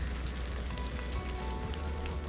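Rain falls outdoors at a wooded site where branches are being cleared for a homemade mountain bike trail, making a steady broadband patter with a low rumble underneath, constant and fairly close throughout, with no voices.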